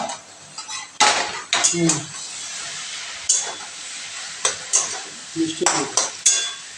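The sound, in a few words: stirring the bottle gourd curry in the pan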